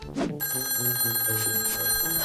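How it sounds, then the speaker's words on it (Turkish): A telephone rings steadily and close by, a continuous electronic bell tone holding without pause. "telefon, telefon çaldı"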